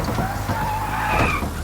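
Formula-style car in a Roblox video game revs with rising and falling engine whine and a squealing skid, close and continuous.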